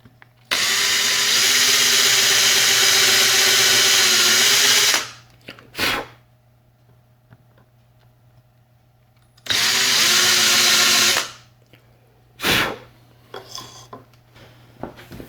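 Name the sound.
drill with 1/4 inch Forstner bit boring wooden lure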